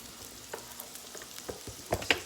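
Squash slices fry quietly in a skillet for baked cheese squash, a faint soft sizzle with a few light scrapes and taps toward the end.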